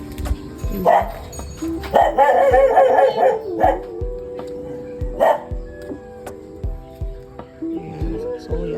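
A large dog barks and howls in several loud bursts, close by, with voices talking in between.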